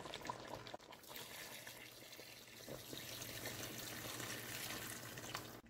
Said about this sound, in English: I'm going to go ahead and add some boiling water.